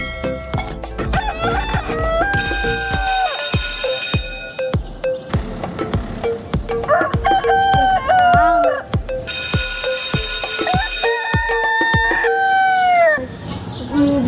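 Repeated rooster crowing used as a sound effect in a Chhattisgarhi comedy skit, loud and close, with several long rising crows overlapping and layered over rhythmic musical beats.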